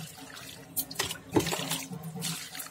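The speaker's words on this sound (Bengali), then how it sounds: "চলো বেল ফুল গাছে জলটা দিয়ে দিই" Water poured from a container onto a jasmine (bel) plant in a garden, splashing and trickling in short bursts at close range, with no talk.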